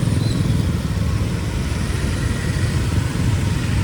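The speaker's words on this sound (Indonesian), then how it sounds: "Gerombol motor-motor tok." Dense, steady engine rumble of many motorcycles idling and creeping along in a heavy traffic jam in Jetis village, loud and close, with no pauses.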